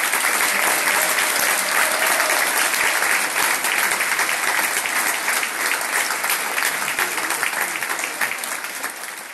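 A theatre audience in Elassona applauds the playwright after a performance of a play, steady dense clapping filling the hall for the whole stretch, loud and close, tapering slightly toward the end.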